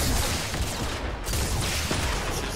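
Dense, continuous gunfire rattles through a shooter video game match, a loud unbroken barrage of overlapping shots with no pauses.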